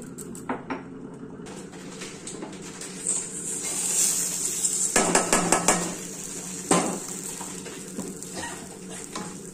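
Rice and lentils for khichdi fry in ghee in a pan, with a steady sizzle and intermittent metallic scraping and clinks of a spoon against the pan, moderately close.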